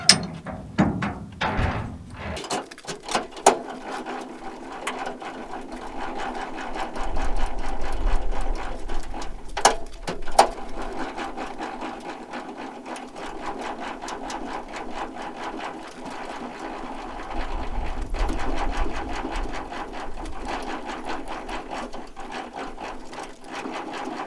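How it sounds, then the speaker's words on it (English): A semi-trailer's landing gear is hand-cranked with a steady ratcheting mechanical grind and clicks, close, with brief louder stretches. "I'm just going to crank up the landing gear"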